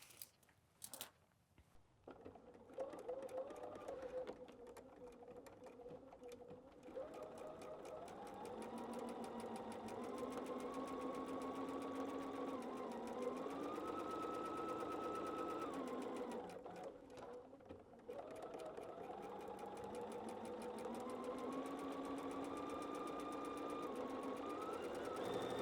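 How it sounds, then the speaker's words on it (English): Sewing machine stitching along a line on patchwork fabric, a steady close whir with rising and falling motor pitch, several long runs broken by brief pauses. "Sewing on the line."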